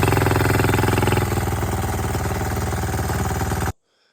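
A turbocharged diesel long-tail boat engine runs at close range, a steady loud rumbling chug with a dense, rapid pulse that eases slightly in pitch partway through, then cuts off abruptly into silence.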